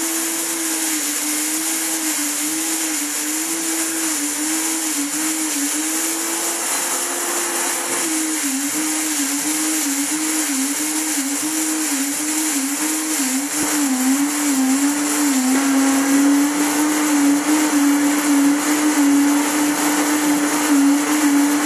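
A countertop blender grinds whole wheat grain into flour, a steady loud motor whine running continuously with a slight wavering pitch and no voices.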